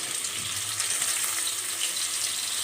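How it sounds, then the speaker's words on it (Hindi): Garlic, ginger and green chilli paste sautéing in hot oil for a home-made Delhi biryani, giving a continuous close sizzle with crackling spatters and no talking. "ऑयल जो है वो गरम हो चुका है, तो इसमें मैं ऐड कर दूंगी लहसुन अदरक का पेस्ट और सौते करेंगे लहसुन अदरक को।"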